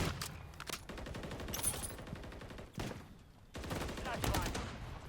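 Rapid bursts of automatic gunfire and single shots from Call of Duty: Modern Warfare 3 multiplayer combat, loud and close, firing in clusters broken by short pauses, with faint voice chatter underneath.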